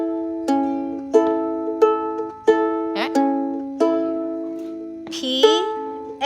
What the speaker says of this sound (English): If you hear it in a chord, it sounds like this.